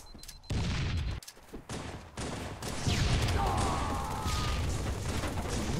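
Gunfire during an online Halo multiplayer match: bursts of rapid shots and a blast, then a sustained roar of firing with game effects over it, loud and close, with players talking over the action.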